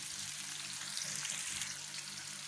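Chopped green chillies lightly frying in a pan for an egg curry, a steady close sizzle with soft crackle running throughout, no voices.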